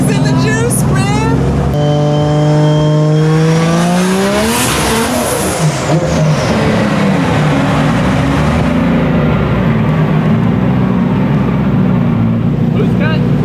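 A 1000 hp 2JZ-powered BMW drift car screams on a dyno with nitrous, its engine revving hard and climbing in pitch, then holding a loud, sustained roar for the rest of the stretch.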